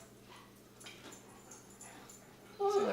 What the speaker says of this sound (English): My dog is crazy today.